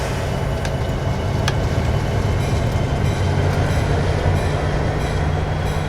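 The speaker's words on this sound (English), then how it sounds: "Looks like we got a little UP manifest train coming up on the main here." A short, fast Union Pacific manifest freight train passes on the main line in the Train Simulator 2019 video game. It makes a steady, loud rolling rumble with faint wheel clatter throughout, and there is no talking.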